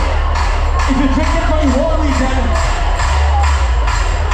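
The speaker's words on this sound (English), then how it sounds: "Everybody put your hands over your head and clap for me" Dense outdoor carnival crowd at Notting Hill Carnival, a loud continuous wash of cheering and whooping with scattered shouts and steady low rumble, no clear individual claps standing out.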